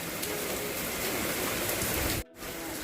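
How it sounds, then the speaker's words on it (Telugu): Steady, dense rain hisses continuously outside, washing over a parked car, broken by a brief dropout near the end before resuming. "వర్షం పడుతుంది బయట."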